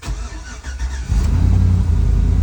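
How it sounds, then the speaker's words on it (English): A 2004 Chevy Tahoe that has sat unused for years cranks briefly, then fires up and settles into a loud, steady idle close by, with no talking. "just fires right up"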